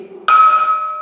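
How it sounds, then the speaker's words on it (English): A small bell struck once in a physics classroom demonstration, giving a sudden bright ring that sustains as a steady, fading metallic tone, fairly close and loud, with no talking. "when you ring this bell"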